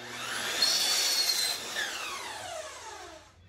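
A power saw cuts through wooden boards for serving trays in a single pass lasting a few seconds, a loud close whine with rough rasping that fades as the blade spins down.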